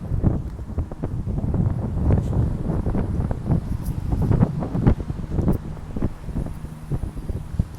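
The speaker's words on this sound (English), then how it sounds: "Windy." Night wind in Paris, near a bridge, buffets the microphone with a continuous low, rough rumble, gusting unevenly and loud throughout.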